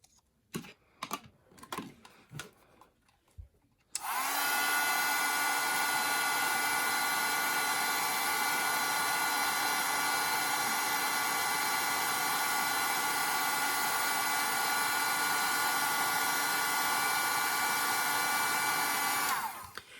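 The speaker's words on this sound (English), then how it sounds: "I'm going to heat set this." Heat embossing tool blowing hot air to set embossing powder on a stamped image, a loud steady whirring roar that starts abruptly after a few soft clicks and handling noises and runs continuously until cut off.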